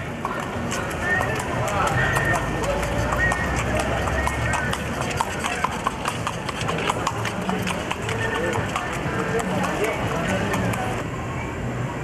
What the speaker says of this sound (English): On this horse-drawn carriage.